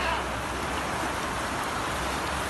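Heavy rain pouring down during street flooding, a steady dense hiss of water across the whole clip, loud and unbroken with no distinct drops or voices standing out.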